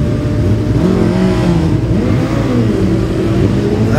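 Paul Owen's Yamaha superbike screams past at full throttle during a Classic TT superbike race on a road course. The engine note is loud and sustained and shifts in pitch as the bike passes.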